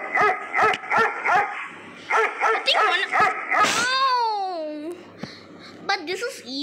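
A puppy in a Roblox escape game yips, barks and whimpers in short bursts, with a longer whining cry in the middle and a few more barks, mixed with game sounds.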